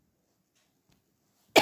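After near silence, a single sharp cough bursts out close to the microphone at the very end.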